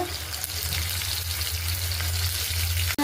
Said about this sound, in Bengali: এখন দিয়ে দিতেছি পেঁয়াজ কুচিটা